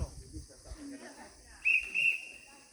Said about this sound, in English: So now they're whistling, which means we have to slowly get going, end our trip.